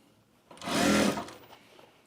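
A sewing machine runs a single short stitching burst along a bag seam, whirring up for about half a second before stopping, close and clear against a quiet room.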